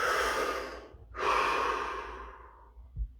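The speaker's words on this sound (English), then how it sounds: "Deep breath." A deep breath: a long, loud, close inhale, a brief pause, then a slow drawn-out exhale that fades away, with no talking.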